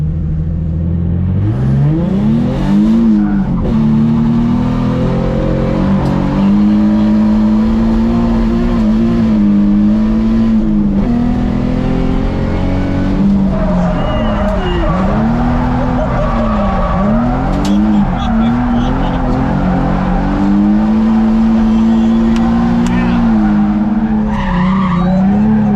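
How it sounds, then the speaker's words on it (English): A car driven hard at speed with its engine revving up and down and tires skidding and squealing, loud and close throughout. "Now he's gonna take me for a little ride going fast."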